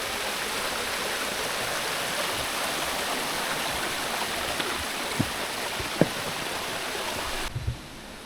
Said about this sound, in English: This water tank has sprung a leak.